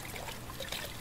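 Water runs steadily at a sink in the horror game The Crooked Man, a soft, continuous trickle heard close up and fairly quiet, with no talking over it.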